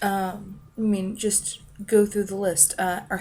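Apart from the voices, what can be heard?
No everyday noises stand out.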